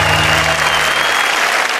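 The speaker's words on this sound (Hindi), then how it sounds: "जोरदार तालियां शरद के लिए" Loud, dense applause from an audience at a Hindi comic poetry recital, a continuous close wash of many hands clapping for the whole short stretch, with no voices above it.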